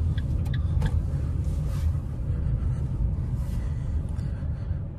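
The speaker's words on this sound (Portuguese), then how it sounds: "o trânsito é bem intenso também nesse horário aqui" Steady low rumble of heavy early-morning city traffic in São Paulo, heard from inside a 2023 Fiat Mobi Like 1.0, continuous and fairly loud with no talking.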